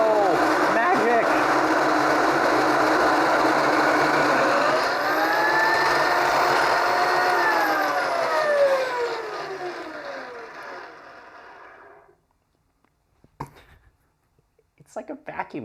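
An espresso grinder whirs loudly as it grinds coffee, its pitch rising as the RPM is turned up. The motor then winds down and stops, and a few light clicks follow in near silence.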